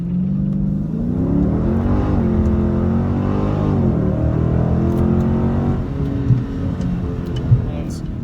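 A 2019 Dodge Challenger Scat Pack on Nitto rear tires accelerates from a standstill on the street, its loud engine climbing and dropping through shifts in a sustained roar.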